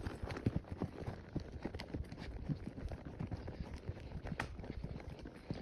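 Horse hooves clip-clop steadily along a forested trail at White Pine Lake, the close, irregular thuds of several footfalls per second continuing throughout with no talking.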